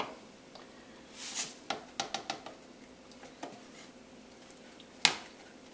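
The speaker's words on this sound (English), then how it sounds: "stir it all together and get it cooking" Minced garlic, oregano and seasonings are stirred into a pot of lasagna stew, with sporadic clinks and scrapes of a spoon against the pot, faint and quiet overall.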